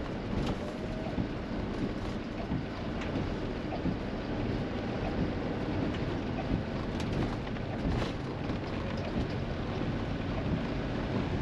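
Steady rain drums on a motorhome as it drives away from Burrs on a wet day in the UK, a dense, even hiss with road rumble underneath throughout.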